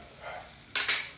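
A metal spoon scrapes and clinks twice against a pan, close and brief, as spice masala and Schezwan chutney are stirred together.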